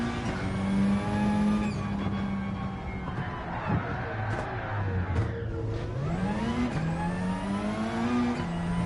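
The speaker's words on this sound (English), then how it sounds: "I'm just messing around now doing handbrake turns just for the fun of it." Race car engine in Gran Turismo 7 during a BTCC Legends race, loud and close, revving and dropping in pitch through handbrake turns with shifting whine and bursts of acceleration, continuous throughout.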